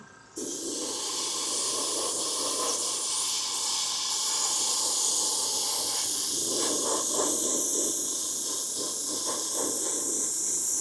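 Continuous airbrush hiss as paint is sprayed onto a 3D-printed Punisher-style Mandalorian helmet, a steady close airy rush lasting throughout with slight pulsing as the trigger is worked.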